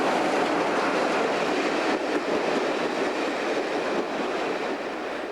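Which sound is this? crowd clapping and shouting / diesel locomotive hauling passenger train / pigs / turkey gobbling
diesel locomotive hauling passenger train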